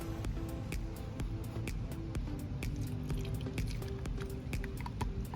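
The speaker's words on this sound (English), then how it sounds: "Pour the vinegar into the rocket." Vinegar poured into a toy rocket, a quiet liquid trickle with many small dripping ticks at an irregular rhythm, faint and close against low background noise.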